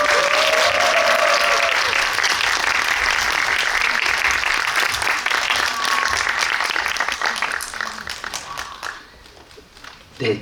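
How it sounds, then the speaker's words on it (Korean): A cinema audience at a guest visit screening claps loudly and continuously to welcome the director and actors onto the stage, a dense wash of applause that thins out and fades near the end. "입장하실 때 큰 박수로 환영해 주시면 감사하겠습니다."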